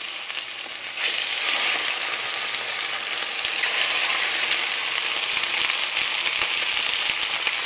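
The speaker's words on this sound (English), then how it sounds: "Olive oil for browning. And you'll want a hot skillet." Pork chops brown in olive oil in a hot skillet, giving a loud, steady, crackling sizzle that swells in after a brief quieter start and holds evenly throughout.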